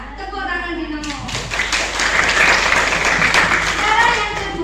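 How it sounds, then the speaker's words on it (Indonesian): Students in a classroom clap for a classmate in a short burst of applause that begins abruptly after a teacher's voice and continues at moderate volume before tapering. "Ya, tepuk tangan Dino."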